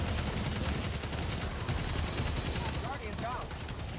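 Gunfire in the Destiny 2 video game, steady dense shooting throughout at moderate loudness, with a player's voice talking faintly underneath.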